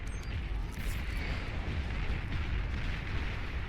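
A volley from sniper bots in the real-time strategy game Beyond All Reason, a dense rumbling barrage of overlapping booms and blasts, continuous and loud throughout.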